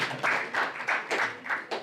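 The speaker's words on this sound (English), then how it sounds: "You can clap if you want to clap" Audience at a real estate book launch and dinner claps in uneven bursts, several loud swells of many hands rising and fading over a short stretch, with no voices over it.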